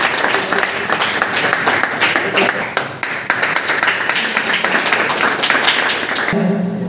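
Audience applause at a prize distribution ceremony in South Sankrail, Howrah, steady dense clapping from a crowd that carries on for several seconds before cutting off near the end.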